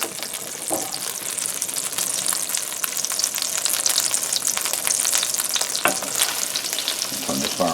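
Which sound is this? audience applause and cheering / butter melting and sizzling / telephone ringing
butter melting and sizzling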